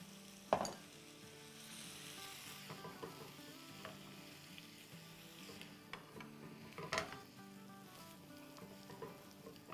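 Steady frying sizzle in a pan as boiled potatoes are heated, with occasional scraping clinks of a spoon stirring them, close and fairly quiet, no voices.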